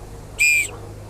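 A volunteer's orange whistle at a street parade gives one short, sharp, shrill blast, loud against a low background hum.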